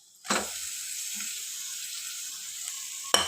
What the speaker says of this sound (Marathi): हे बघा, मी आता त्यात बटाटे ओतते सगळं.